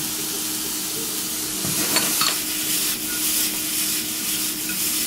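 Peppers and celery hiss and sizzle steadily in a hot pan, with a brief stirring scrape about two seconds in, close and continuous without talk.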